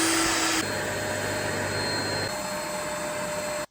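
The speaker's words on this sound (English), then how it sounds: "So we're going to vacuum this, steam clean it" Continuous loud vacuum cleaner drone close by, cleaning a ute's interior, with a shift in pitch as the nozzle moves, running steadily without any voices.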